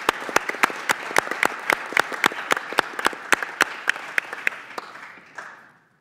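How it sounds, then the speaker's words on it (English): A small group claps in a committee hearing room for a retiring staff member, sparse and distinct claps in a quick even rhythm, close and clear, tapering off and ending abruptly. "I'd like to give her a round of applause."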